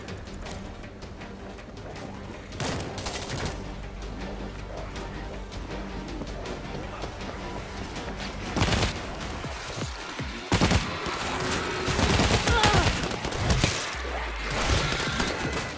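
Gunfire in the zombie shooter World War Z Aftermath, set in Phoenix: sustained rapid automatic bursts with loud, sharp volleys and blasts building toward the end, dense and close.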